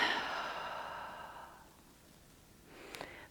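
A single long, breathy exhale during a pregnancy mobility exercise class suited to pelvic girdle pain. It starts close and fairly strong, fades out over about a second and a half, and is followed by a faint quiet stretch.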